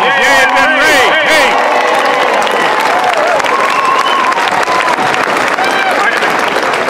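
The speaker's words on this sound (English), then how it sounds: "Let's give him a big round of applause." A crowd at a March for Science rally applauding a congressman from New Mexico, dense clapping and cheering filling the air, with a speaker's voice heard over it at the start.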